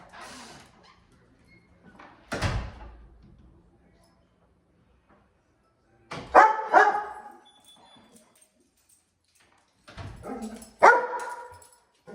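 Dogs bark in loud, separate bursts during a play training session, with a handler's voice talking between and over the barks.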